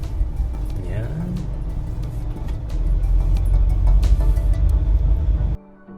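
A car pulls in to park in a shady spot, its engine rumbling steadily and swelling slightly before cutting off abruptly near the end, with people talking over it.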